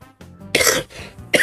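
A man coughs close to the microphone, with two rough, harsh bursts in quick succession after a brief throat sound.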